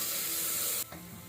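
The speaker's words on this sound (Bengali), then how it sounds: "এই আদা রসুনটা একটুখানি ভেজে নেব" Ginger and garlic frying in a pan for chicken momo, a steady close hiss of sizzling oil that drops suddenly to a quieter simmer partway through.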